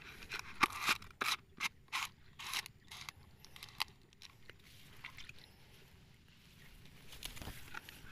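Powdered herbicide is shaken in a container in a handful of quick, gritty rattling bursts, followed by quieter scraping and shuffling, fairly close and moderately soft.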